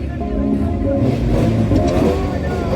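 A stunt-show car revs on a track at Saint Jean de Monts in Vendée, its mid-pitched engine rising and holding loud and close for the whole stretch, with some crowd or announcer noise mixed in.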